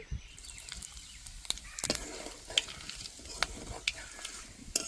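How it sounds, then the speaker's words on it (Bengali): Whole black cumin (nigella) seeds fry in oil, after hilsa fish, as a soft, steady crackle, broken by several sharp metallic clinks of a spoon against the pan. "কালো জিরেটা ভালো করে ভাজা হয়ে গেছে"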